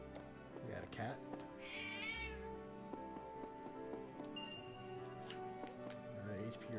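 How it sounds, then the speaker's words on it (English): A cat in the Triangle Strategy video game gives one clear, wavering meow, set over soft game music with light chiming tones. "We got a cat."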